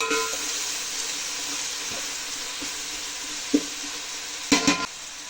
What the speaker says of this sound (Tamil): காரத்துக்கு ரெண்டு பச்சை மிளகா ஆட் பண்ணுறேங்க நல்லா மிக்ஸ் பண்ணிடலாம்